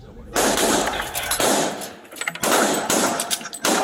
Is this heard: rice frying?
no